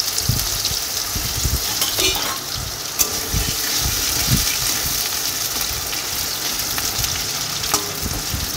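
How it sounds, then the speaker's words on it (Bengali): Potatoes fry in hot oil left over from frying eggs, a loud continuous sizzle with bubbling and stirring clatter throughout, close by and without talking. "ডিম ভাজা হয়ে গেলে ওই তেলে ডিমের ঝোলে যে আলু দেবো, আলুগুলো ভেজে নেব।"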